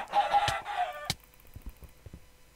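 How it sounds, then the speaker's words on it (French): Clucking squawks from chickens in Minecraft burst out during a PvP match as the birds are thrown at the player. A sharp hit follows, then quieter clicks and thuds of the game. "Y'a un mec qui m'a lancé des poules à la gueule."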